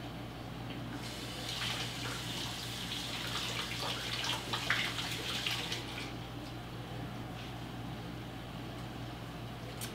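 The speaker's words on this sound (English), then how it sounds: "and then wash my hands" Tap water runs steadily into a sink while hands are washed beneath it, a close, continuous splashing rush with a few louder surges around the middle.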